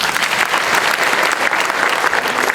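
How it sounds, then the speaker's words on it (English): Audience at a judiciary event in honour of the Chief Justice gives a loud, dense round of clapping that carries steadily throughout. "One more clap."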